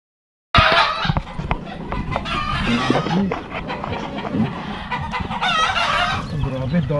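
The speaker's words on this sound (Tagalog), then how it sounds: "Silipin natin mga sisiw nila." Chickens and chicks in a backyard coop cluck steadily close by, with a rooster crowing over the flock and faint peeping mixed in, all continuous and fairly loud.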